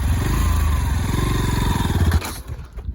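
Motorcycle engine running steadily close by during a riding lesson on an empty field in Musapur, with a throbbing low idle that roughens and sputters before dropping off near the end.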